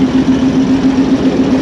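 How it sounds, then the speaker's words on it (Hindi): A Hitachi 2000-horsepower diesel locomotive from the Rawalpindi shed idles close by with a steady, low, droning rumble and a constant hum, unbroken throughout with no talk. "बहुत ही ज़बरदस्त लोकोमोटिव है ये, हिटाची का 2000 हॉर्स पावर का और रावलपिंडी शेड का ये लोकोमोटिव है।"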